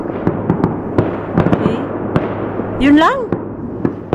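Fireworks popping and crackling at a distance in Finland, sharp irregular bangs scattered through the stretch with a rising whistle near the end, heard beneath someone talking.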